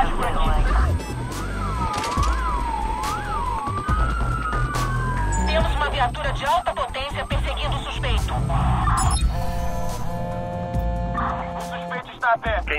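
Police car siren in the video game Watch Dogs, a wailing tone rising and falling over game music and effects while people talk.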